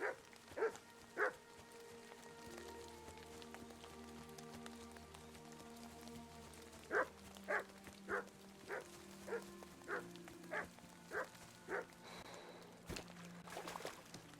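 A dog in Kingdom Come Deliverance 2 gives a series of barks, a pair early on and then a run of evenly spaced barks, moderately near over a quiet ambient background.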